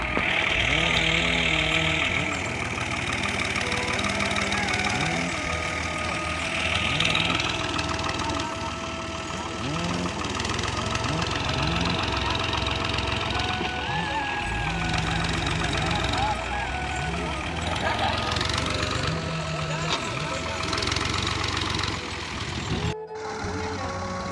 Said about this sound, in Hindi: ट्रैक्टर फंस गया।